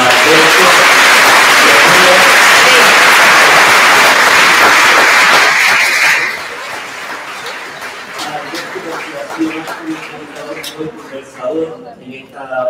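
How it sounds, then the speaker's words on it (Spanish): Strong audience applause at the opening talk of an architecture workshop, a dense clapping wash for about six seconds that cuts off abruptly, followed by someone speaking and scattered room noise. "le vamos a invitar un fuerte aplauso a Alberto."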